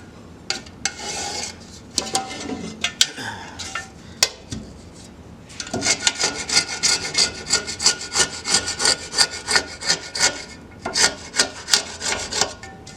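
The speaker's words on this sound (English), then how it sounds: "So we'll just kind of scrape that edge." Adhesive and dried ink being scraped off the edge of a screen printing screen: sporadic rasping strokes at first, then a steady run of rhythmic, close scraping passes with no talk.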